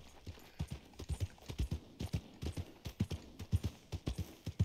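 Horse hooves clip-clopping in the video game Red Dead Redemption 2, a steady rhythmic walking gait on a town street, clear and close, with no talking over it.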